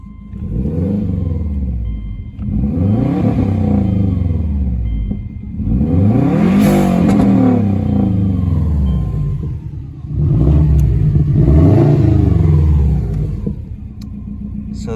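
A Subaru Outback XT turbo with an aftermarket cat-back exhaust revs hard several times, each deep rumbling rise and fall of the engine loud and close, with short idling gaps between the pulls.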